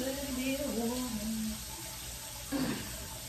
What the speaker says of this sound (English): let's add a little bit of water, y'all